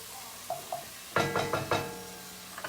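Shallot, onion and garlic sautéing in a pot for lentil soup, giving a soft sizzle with a few clear scraping stirs in the middle and light knocks near the end.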